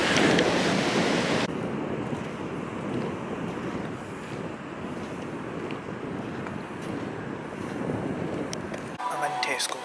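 Ocean waves wash continuously against strong wind buffeting the microphone, a steady, loud roar lasting several seconds that cuts off abruptly near the end.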